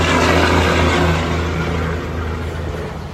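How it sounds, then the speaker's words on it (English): A loud car passes on the road outside with a steady, rumbling engine drone that slowly fades as it goes by. "there's a road out there, so you get some loud cars sometimes"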